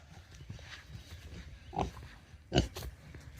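Baby pigs on a farm give a few short grunts and squeals near a fence, two brief louder squeals standing out over faint rustling and background noise.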